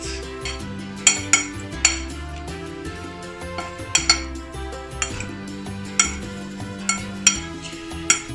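Taco ingredients being mixed with olive oil, a utensil clinking and scraping against a bowl in irregular, sharp knocks over quiet background music.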